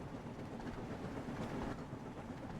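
A toy steam engine runs along its track in rainy weather, giving a steady rolling rumble with faint rhythmic clatter, fairly quiet and continuous with no voices.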